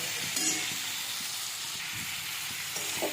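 Tomato, ginger and chili added to frying vegetables give a soft, steady sizzling hiss with a couple of faint clinks, quiet and brief, with no talking.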